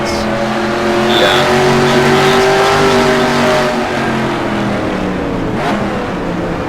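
A Formula DASCAR race car runs the Daytona Road Course during a 2014 fall testing session, its engine droning with a steady, rising and falling whine and a loud, continuous roar throughout.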